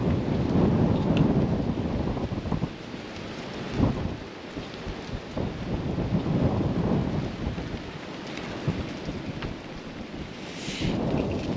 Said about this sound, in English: It's starting to rain a little bit now.